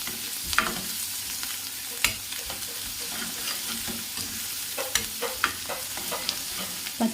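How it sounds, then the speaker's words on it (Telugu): Homemade ginger garlic paste fries in a pan for chicken liver fry, with a steady sizzle broken by irregular spatula scrapes and clicks from continual stirring, close up and with no talking. "పచ్చి వాసన పోయే వరకు బాగా వేయించాలి అల్లం వెల్లుల్లి పేస్ట్"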